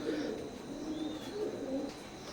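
A young pair of Royal Teddy pigeons, five-feather babies, coo in low, soft, rolling phrases that repeat steadily, close by and moderately loud over faint background hiss.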